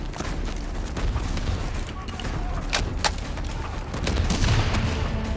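Heavy gunfire and explosions from Javelin missile strikes in the Call of Duty Black Ops 3 campaign, a loud continuous barrage with sharper blasts near the middle and a swelling roar toward the end.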